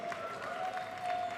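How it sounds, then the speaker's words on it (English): An audience applauds the winner of the final fight at a chessboxing event. The clapping is a soft, steady wash that swells slightly near the end and stays fairly distant. "Huge round of applause for our final fight winner, Anthony Toto, the robot Bourached."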